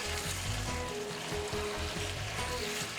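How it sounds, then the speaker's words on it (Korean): Kimchi pork being stir-fried with onion, green chili and green onion in a hot pan, a steady close sizzle and crackle with soft scraping, no talking. "그리고 2~3분간 가볍게 한 번 더 볶아주시고요"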